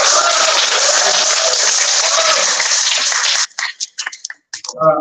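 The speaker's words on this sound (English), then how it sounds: "Can we have some round of applause?" An audience at a communication conference gives loud, steady applause for about three and a half seconds. It then cuts off into scattered quieter sounds and a brief voice.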